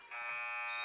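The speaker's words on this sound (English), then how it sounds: "the buzzer had sounded there, so we're at halftime" Basketball game buzzer at halftime in a school tournament gym, a single steady electronic drone that starts abruptly and holds loud and flat for under a second.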